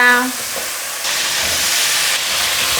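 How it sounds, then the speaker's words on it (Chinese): Tomatoes tossed into a hot pan for a vegan stir-fry with ginger, giving a loud, steady broadband sizzle that jumps up after a second and keeps hissing close by without any talk. "现在放入番茄，快速翻炒"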